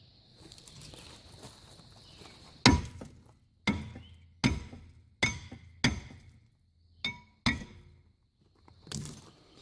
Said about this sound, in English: usually just tapping it with a hammer a few times works